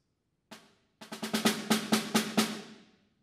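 Snare drum rudiment from a percussion audition etude, played without the roll stroke: one sharp stroke, a pause, then a quick cluster of crisp hits settling into evenly spaced accents, close and alone.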